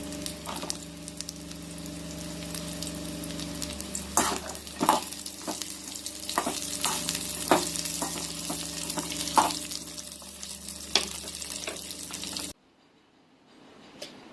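Veld grape (pirandai) sautéing in a pan with chillies and half-cooked coconut, a steady close sizzle broken by repeated sharp stirring scrapes, then cutting off abruptly near the end.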